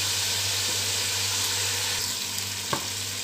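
Tomatoes frying in a pan for kadhi pakora, a steady close sizzle throughout with a brief clink or stir near the end, no voices.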